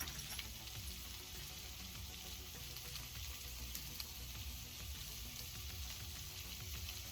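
Food frying in a pan on a camp stove gives a steady, faint sizzle with soft crackles that runs unbroken and without voices the whole time.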